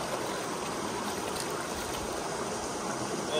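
Spring water from Arrowhead Spring in the California backwoods streams steadily in a continuous, even trickling rush that stays close and unbroken with no voices.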